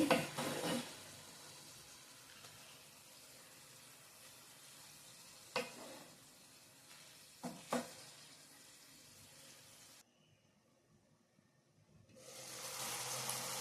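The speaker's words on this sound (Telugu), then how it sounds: "ఇలా కలుపుతూ ఉండండి" Tomatoes simmer in a pan over a low flame with a quiet, soft sizzle. A few sharp stirring scrapes break through, followed by a short hush and then a louder burst of sizzling.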